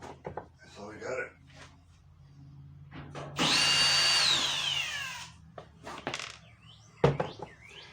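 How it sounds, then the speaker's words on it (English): A 1/4-inch drive power driver removing bolts from the top of a Maytag Bravos dryer gives one steady whirring burst of about two seconds, loud and close, between short clanks and spoken remarks. "This is using a 1/4-inch drive to take the bolts out, makes it a little bit easier."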